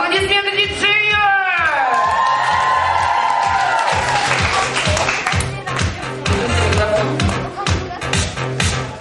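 Crowd of children at a summer camp intellectual football event applauding and cheering loudly, sustained clapping and shouts throughout, with music and voices mixed in.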